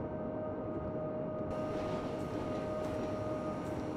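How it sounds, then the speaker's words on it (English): A long freight train in Train Simulator 2014 rumbles steadily along the track on a northbound intermodal run, with a constant dense roar and a faint high whine, no speech. "And our train is still snaking around the corner back there."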